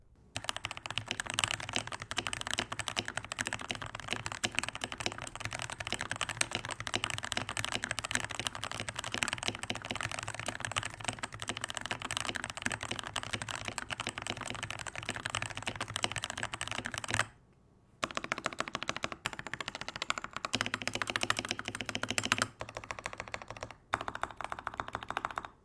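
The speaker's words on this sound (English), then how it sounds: "Let's take a listen to the board stock." Typing on a stock Azio Tera75 mechanical keyboard with a concrete case and Gateron G Pro switches: a fast, continuous clatter of close keystrokes, with a couple of short pauses near the end.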